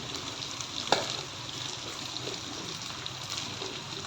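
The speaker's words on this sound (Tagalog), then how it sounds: "imegus-megus muna natin ang ating bawang" Garlic sautéing in a pan, a steady close sizzle with soft stirring and one sharp utensil tap near the start, no voices.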